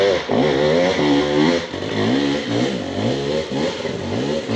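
A BBR KLX170RF dirt bike revs hard on a snowy winter enduro course, its engine climbing and dropping in pitch in repeated surges, loud and close throughout.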